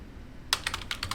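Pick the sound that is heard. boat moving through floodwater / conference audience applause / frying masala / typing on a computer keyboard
typing on a computer keyboard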